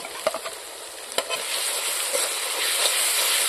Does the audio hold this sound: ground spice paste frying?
yes